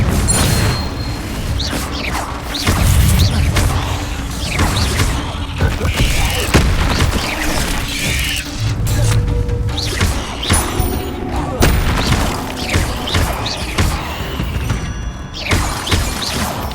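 Repeated Confringo blasting-spell explosions in the Hogwarts Legacy video game, loud booming thuds and shattering bursts in quick succession across the whole stretch, layered over a dense, busy game soundscape.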